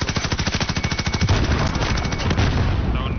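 Rapid automatic gunfire in Call of Duty Warzone, a loud close burst of evenly spaced shots in a fast rhythm, followed by a denser, more chaotic stretch of firing and impacts.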